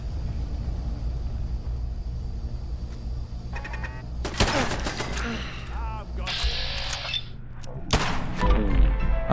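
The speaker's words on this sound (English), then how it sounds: "Sounds like turrets." Turrets in Fallout 4 fire several sharp bursts over a low ambient rumble, with clusters of rapid shots and crackling impacts in the middle and toward the end, some sounding a little distant.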